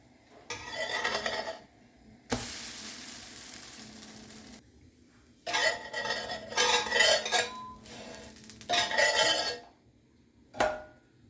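Chutney stirred in a pan, several bursts of scraping and sizzling spoon strokes separated by short silences, with one longer hiss and a final quick scrape.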